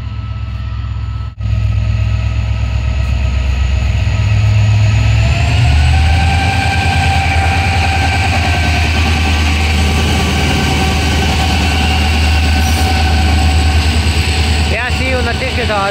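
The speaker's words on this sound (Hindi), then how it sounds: "HGMU की हमिंग की आवाज़ आ रही है।" An HGMU diesel locomotive hums at a railway station, a deep steady drone that continues unbroken, with a faint rising tone joining partway through.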